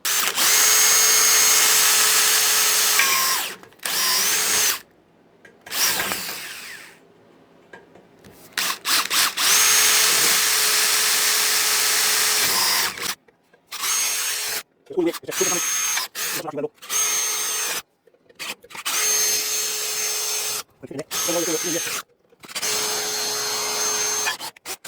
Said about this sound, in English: I'm going to get a drill, 4mm drill, put some holes in it